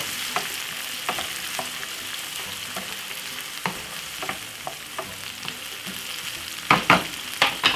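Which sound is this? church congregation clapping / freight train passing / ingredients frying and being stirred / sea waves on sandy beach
ingredients frying and being stirred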